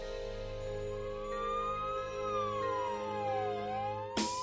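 An ambulance siren wails in a slow rising and falling sweep, moderately loud and steady, ending with a sudden sharp bang.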